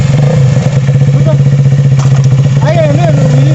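A super bike engine runs close by with a rapid, steady pulsing throb while people talk loudly over it.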